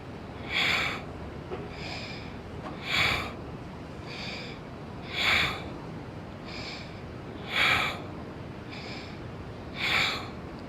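Slow, deliberate yoga breaths in and out during a French-guided twist session, each loud breathy rush returning roughly every two seconds in a steady rhythm, close and alone with no talking.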